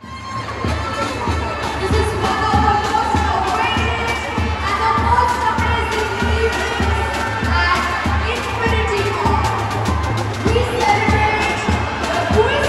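A dense crowd gathered for a Christmas celebration, with a steady wash of many voices, children shouting and bursts of cheering, loud and continuous throughout.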